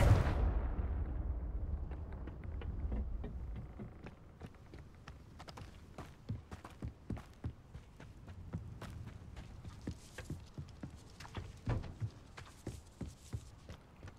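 A Confringo fire-blast spell in Hogwarts Legacy goes off with a heavy booming burst that rumbles away over a few seconds, followed by a scattering of quieter footsteps and clattering impacts.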